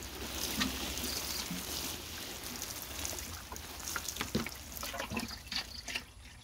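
Water poured from a container onto soil around papaya plants, a soft steady splashing stream with irregular spattering bursts, close and fairly quiet, no talking.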